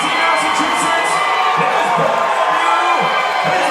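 An arena crowd roars and cheers for fighter PJ Campbell from Quincy, Massachusetts, a loud sustained wash of voices with whoops rising over it, filling the whole moment.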